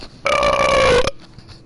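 A man lets out one loud, drawn-out burp that lasts close to a second and has a strong tonal rasp, then stops abruptly. He is alone, streaming the game Dead Rising.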